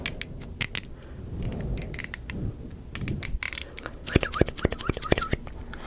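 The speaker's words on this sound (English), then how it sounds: "we're just going to trim with the basic scissors one more time" Basic scissors snip through hair during a fast ASMR haircut, with soft brushing and rustling early on and a run of crisp, close cuts clustering near the end.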